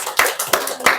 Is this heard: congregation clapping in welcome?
yes